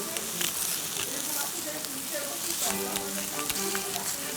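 A steak, salted side down, sizzles steadily on a barbecue grill with a broad crackling hiss and occasional sharper pops, recorded close and fairly quiet.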